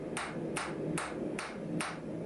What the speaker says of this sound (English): hammered a little bit more with a little bit more force behind it this time